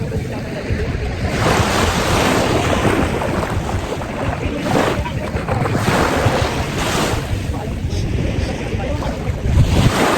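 Ocean surf breaks steadily and loudly on the beach at Calaguas Island in Camarines North, with wind gusting against the microphone. It's a dense roar that swells in waves and carries on without a break, with no voices.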